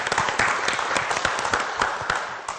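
An audience at a psychology graduation ceremony applauds as a speaker walks to the centre, giving brisk, continuous clapping that stays fairly loud throughout.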